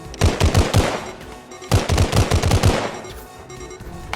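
Rapid bursts of submachine gun fire in a video game, several short automatic volleys in quick succession, loud and close, with a pause between two clusters and a quieter tail.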